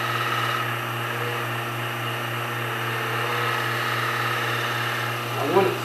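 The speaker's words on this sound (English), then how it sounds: "I'm going to clean it up just a little bit more by twisting the hunter tool." Hunter Viceroy turning tool being twisted against spinning work on a lathe to clean up a cut, a steady machine hum with light scraping throughout and a brief louder scrape near the end.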